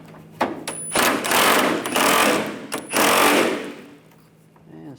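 Socket wrench taking nuts off a 1996-2002 Toyota 4Runner during air deflector replacement: several bursts of rapid ratcheting and rattling metal, close and fairly loud, separated by brief pauses.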